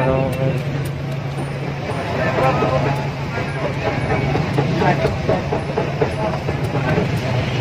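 An LRT Line 2 light rail train rumbles past nearby at Recto Station, Manila, with a steady low roar and rattling wheels, mixed with street noise and people talking.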